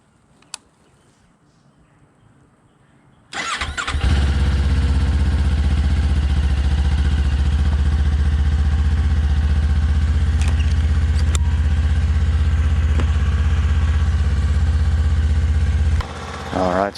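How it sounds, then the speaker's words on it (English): A 2025 Kawasaki Ninja 500 motorcycle cranks and fires up after a quiet moment, then settles into a loud, steady, close idle for about twelve seconds, with faint clicks over the engine hum. "let's go ahead and get her started up and warmed up"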